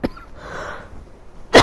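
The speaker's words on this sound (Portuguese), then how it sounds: "Vai me dar um acesso de tosse." A man's short coughing fit during a spoken Portuguese lecture, with a sharp cough at the start, a quieter stretch, and a second loud cough burst near the end.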